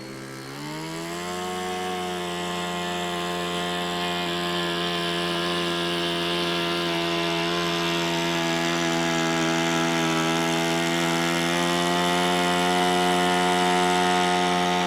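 An OMP Balsa 55-inch Decathlon RC airplane holds a torque roll, its electric motor giving a steady, loud whine that climbs in pitch over the first second or two and then stays level.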